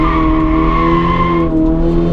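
A Toyota GR86 on a racetrack, its tires squealing as the car pushes into understeer, a steady sustained howl over engine and wind noise that stays loud and close throughout.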